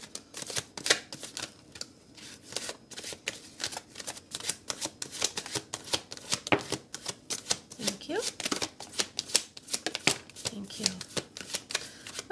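Tarot cards being shuffled by hand, a steady run of crisp riffling and snapping strokes close up, with a person talking over it.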